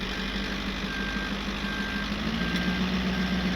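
A 15,000 pound septic truck in reverse, its backup alarm beeping in a steady repeating rhythm over a low idling engine rumble, moderately close, with no talk.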